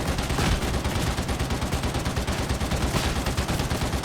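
Rapid, dense gunfire from an ogryn's heavy gun in Warhammer 40,000: Darktide, a continuous loud stream of close shots with no pauses and no talk.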